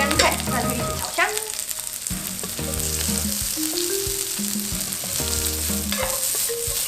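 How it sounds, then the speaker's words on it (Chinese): Preserved mustard greens stir-fried in a wok give a steady, close sizzle that runs the whole time, with faint music underneath. "我们就把梅干菜下去一起炒香"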